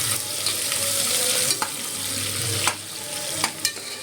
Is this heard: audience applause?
no